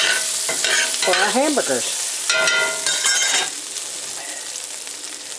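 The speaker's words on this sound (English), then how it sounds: "I'm just going to fry these with some onion as a side" Potatoes frying with onion in a home kitchen pan, a steady close sizzle with stirring clatter, while someone talks over it through the first few seconds before the sizzle carries on alone.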